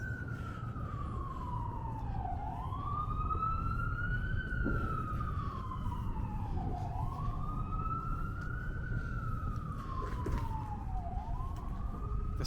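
An emergency vehicle's wailing siren rises and falls in slow, sweeping cycles over constant New York City street traffic on 2nd Avenue, loud and steady throughout.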